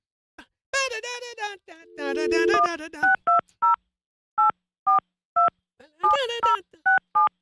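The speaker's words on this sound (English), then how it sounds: "Time to make a little phone call." Series of telephone keypad DTMF tones punched out one by one in an irregular rhythm, close and clear, with a radio host talking over the first part and again near the end.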